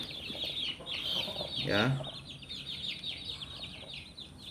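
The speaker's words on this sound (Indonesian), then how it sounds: "karena ini ayam sedang sakit flu" A sick hen with a flu-like cold from cold weather clucks and calls repeatedly in a close farmyard setting, with a brief louder squawk partway through and a short spoken word over it.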